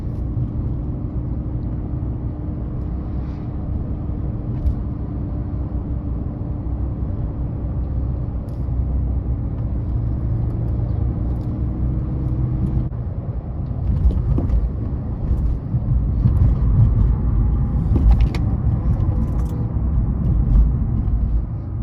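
A BMW E46 driving along with a steady low engine drone and road rumble heard from inside the cabin, the noise swelling louder and rougher in the later part as the car seems to accelerate.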